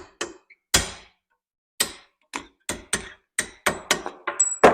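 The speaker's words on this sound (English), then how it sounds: "Then I simply take a drift pin, get it in the center," A hammer striking a drift pin to knock a hinge pin out of a 1963 Corvette split window coupe door: about a dozen sharp metallic knocks, sparse at first and then in quicker succession, close and loud.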